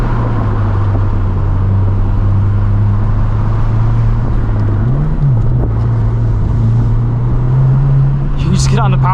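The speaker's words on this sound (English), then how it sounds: "WRX exhausts are always a little bit drony, especially with the equal length factory headers on there" Interior of a 2022 Subaru WRX with equal-length factory headers: a loud, steady low exhaust drone while driving canyon roads, rising briefly in pitch under throttle, with someone talking over it.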